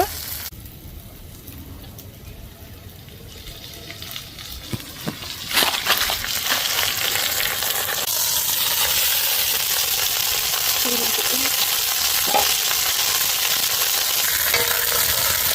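Pomfret fish fry in a pan with masala, starting as quiet background crackle with a few clinks and knocks, then swelling into a louder, steady close sizzle that continues to the end.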